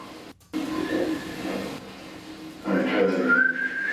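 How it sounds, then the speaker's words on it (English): A long, wavering whistle with a rhythmic quality, rising in pitch toward the end, heard over a murmur of background talk. "It's a long whistle."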